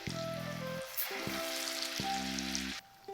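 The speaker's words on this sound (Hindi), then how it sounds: "और गोल्डन कलर आने तक हम इसे फ्राई करते रहेंगे।" Potato lachha pakora frying in medium-high hot oil, a steady close sizzle and crackle that continues throughout, with a faint tonal hum layered underneath.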